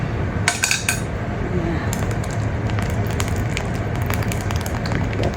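Evaporated milk going into a pot of guinataang bilo-bilo cooking in coconut milk, with a steady low bubbling simmer, a few sharp clinks of utensils against the pot, and scattered light splashes throughout.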